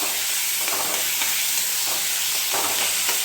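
Boiled taro leaves are added to a hot pan with hilsa fish heads, producing a steady, close hiss of sizzling and frying with faint stirring scrapes and no voices.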